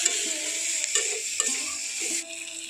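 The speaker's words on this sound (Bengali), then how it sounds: "এখন এই সবগুলো এইভাবে নাড়াচাড়া করে দিচ্ছি" Gima greens with salt and turmeric being tossed in a hot pan, with a soft, even sizzle under a few brief scraping strokes of a spatula, fairly close and without talk.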